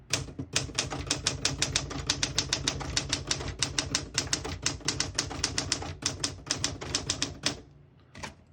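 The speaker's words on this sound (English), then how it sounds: "Very nice typing machine." Typing on a 1963 Smith-Corona Classic 12 vintage portable typewriter: a rapid, steady run of sharp mechanical key strikes, close and loud, ending with a short pause and a couple of final clacks.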